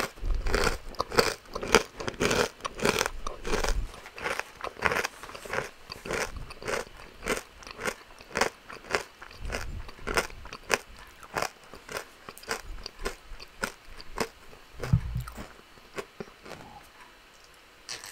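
Crisp bites and crunchy chewing of a mustard-flavoured snack, recorded close for ASMR; sharp crunches come in quick repeated bursts, with a few louder bites near the end and no talking.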